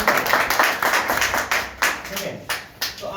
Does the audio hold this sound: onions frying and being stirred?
no